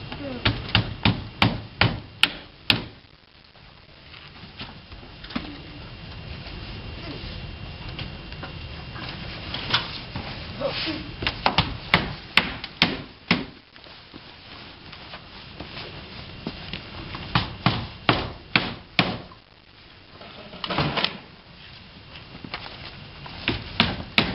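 Hammering on roof shingles at a farm: sharp, irregular knocks come in quick bursts with pauses between, moderately close, the strikes landing in clusters over a quiet outdoor background.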